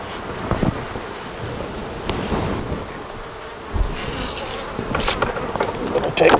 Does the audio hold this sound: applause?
no